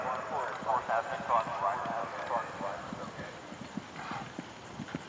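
A horse's hooves clip-clop in a steady rhythm on firm ground, fairly close, at an eventing cross-country competition, preliminary level, while people talk quietly in the background.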